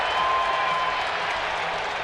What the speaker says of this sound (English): which is why the crowd is reacting the way they are